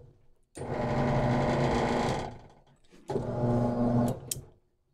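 A Mabe Easy washing machine motor whirs in two steady bursts of a couple of seconds each, separated by a brief pause, fairly close and with no talking.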